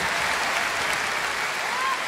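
Steady, dense applause from a large crowd fills the clip evenly, loud and continuous without a break.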